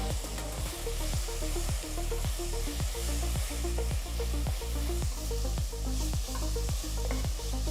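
Spices with salt, turmeric and coriander powder fry in a pan for a mushroom biryani, a steady close sizzle running throughout, broken by regular scraping strokes of a spoon stirring every half second or so.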